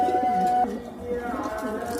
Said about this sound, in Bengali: এই যে কবুতরগুলো দেখাইতেছি, প্রত্যেকটা কবুতরই আমার রেজাল্ট করা।